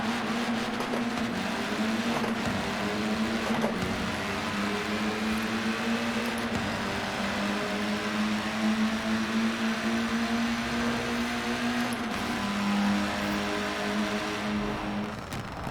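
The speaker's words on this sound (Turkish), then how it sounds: "Arabanın dışarıdan tünel sesi böyle" A 2016 Abarth 695 Biposto in Forza Horizon 4 drives through a tunnel, heard from outside the car: a steady, loud engine drone echoing throughout, with slight pitch rises and no talking.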